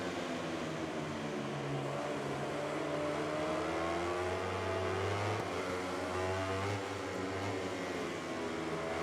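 Race bikes revving at the start of the Italian Grand Prix at Mugello in MotoGP 2021, a steady loud engine roar with pitch climbing through the gears as several machines accelerate together.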